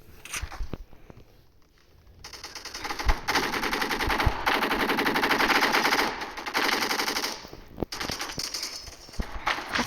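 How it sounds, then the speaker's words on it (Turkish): Gunfire in the Roblox game erupts as dense, rapid shotgun blasts, loud and sustained through the middle with quieter gaps at the start and end. "Bu nasıl silah? Pompalı lan bu."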